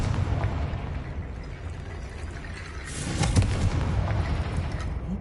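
Confringo fire spell cast in the video game Hogwarts Legacy, a rumbling explosive burst building to a booming blast over a steady low game backdrop.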